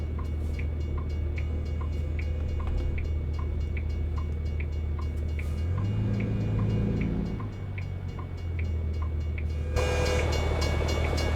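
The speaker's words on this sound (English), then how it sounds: "Sounds like that train's catching up to us." A train in American Truck Simulator rumbles steadily alongside a truck on the road, a low continuous rolling drone with rhythmic clicking that swells in the middle and carries on beneath a brighter hiss toward the end.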